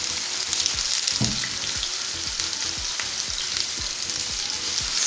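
Onion, garlic and ginger frying in reused fish oil for a pepper sauce, a steady close sizzle with light crackles and a few stirring scrapes, no voices.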